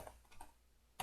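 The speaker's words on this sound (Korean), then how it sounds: "제가 이걸 타이핑을 안 쳤네." Quiet, close computer keyboard typing: a few soft scattered key clicks followed by a sharper, louder keystroke at the end, faint overall.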